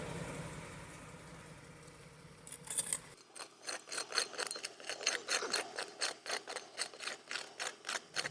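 Small hand trowel digs at a camping spot: after quiet rustling, a run of rhythmic scraping strokes in soil or gravel, roughly a dozen evenly spaced scrapes, close and clear.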